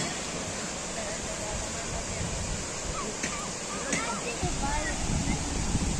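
Cascata delle Marmore, a man-made waterfall, roars as a broad continuous rush while its flow is being cut back, with voices talking over the steady wash.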